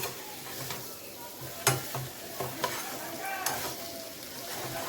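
Raw jackfruit and small prawn curry sautéing with spices in a pan, a soft steady sizzle with scraping stir strokes and a few sharper clinks of the spoon against the pan, close and without talk.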